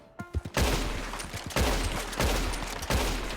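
Gunfire in Red Dead Redemption 2 Online, a few light taps followed by a rapid series of loud, close shots in an even rhythm.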